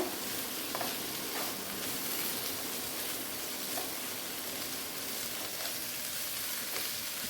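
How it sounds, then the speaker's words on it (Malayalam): Violet cabbage stir-fry with grated coconut being stirred in a hot pan: a continuous quiet sizzle broken by light, regularly spaced scrapes of the stirring spoon. "നന്നായിട്ട് ഇളക്കി യോജിപ്പിക്കുക"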